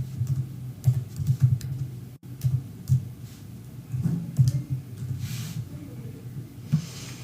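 Someone typing a search query on a computer keyboard: bursts of quick, close key clicks in uneven clusters, pausing between words, over a soft room hiss with no speech.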